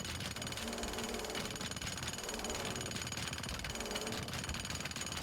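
Jackhammer in the video game Teardown pounds at a building foundation in a continuous, rapid, loud rattle throughout, alone with no talk.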